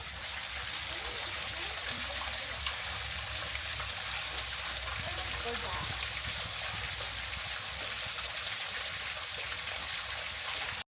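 A small waterfall spilling from a well into a stone trough in Cape Town, a steady close trickle and splash running continuously for about eleven seconds with faint background noise.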